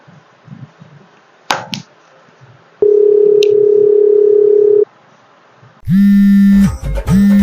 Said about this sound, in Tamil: சரி, போன் போடுவோம், என்ன பண்றான்னு கேட்போம்.